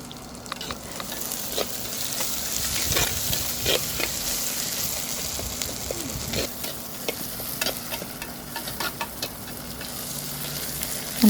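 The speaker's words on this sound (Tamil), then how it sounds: "நல்லா வதங்கிருச்சு." Shallots sauté in hot oil in a pan for fish curry, giving a continuous close sizzle with frequent light scraping stirs throughout.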